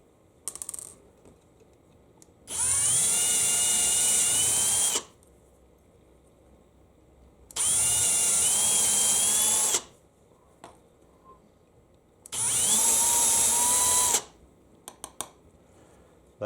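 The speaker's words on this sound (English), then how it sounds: "just to drill these through to make clearance holes" Power drill boring clearance holes through a metal brazing jig for band saw blades on a workbench, three loud sustained bursts of whining drilling of about two seconds each, separated by quiet pauses, with faint clicks at the end.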